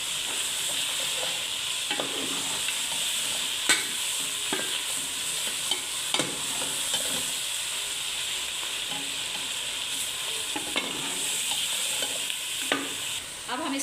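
Garlic frying for white chicken karahi as it is stirred in a pan: a steady, close sizzle with repeated scraping spoon strokes throughout, no talking.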